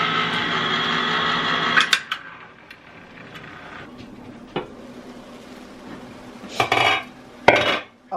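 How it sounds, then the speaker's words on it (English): Ground meat being stirred in a pan on the stove: scattered metal scrapes and clanks of a utensil on the pan, close and fairly loud, over a quieter background hiss, with no talking. "I like to keep actually stirring my meat to make sure I break it down really, really well"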